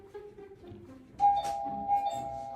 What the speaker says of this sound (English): there's definitely something wrong with the bloody bell